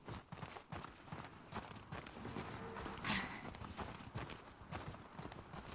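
Horse hooves clip-clop in The Last of Us Part II, a steady, fairly faint run of hoof strikes over ambient game sound with no talking.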